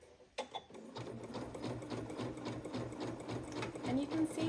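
A sewing machine with a walking foot zigzag-stitches elastic onto fabric while making a bra, a quiet, rapid, rhythmic mechanical stitching that runs steadily through the clip.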